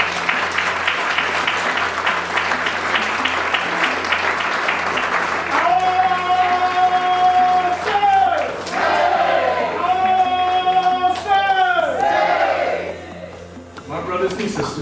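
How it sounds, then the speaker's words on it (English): A crowd at a reception for an ambassador applauds in a steady round at first, then loud whoops, cheers and ululating shouts rise over the clapping before it fades. "Ladies and gentlemen, if we could just please give them a round of applause."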